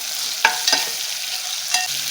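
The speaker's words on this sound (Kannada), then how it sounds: "ಇದ್ರ ಜೊತೆಗೆ ಈರುಳ್ಳಿ ಜೊತೆಗೇ ಫ್ರೈ ಆಗುತ್ತೆ." Ginger garlic paste fries with onions in a pan, giving a steady bright sizzle broken by a few sharp crackles and scraping stirs.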